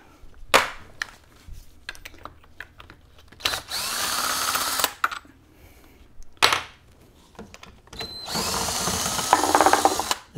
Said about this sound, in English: let me loosen up these bolts here